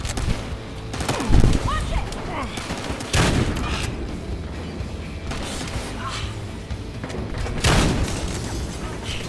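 Gunfire in a game built around a 12-gauge shotgun: several loud, sharp blasts spaced a few seconds apart over a busy background of chatter and smaller bursts.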